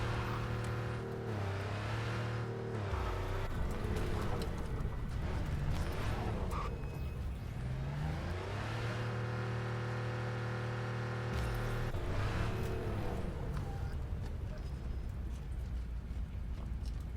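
A car drives in Cyberpunk 2077, its engine droning and rising and falling in pitch through repeated accelerations and gear shifts, holding a steady, moderate loudness with no talking.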